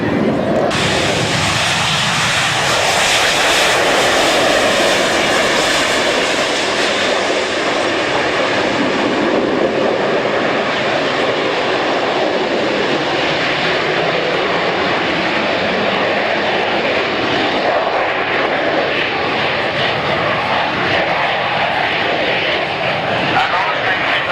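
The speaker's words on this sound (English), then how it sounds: "Now also rolling down the runway from the right is the Harrier" A loud, sustained jet engine roar fills the whole stretch, steady and powerful with a broad rushing whine, as a Harrier jet rolls down the runway for takeoff at an air show.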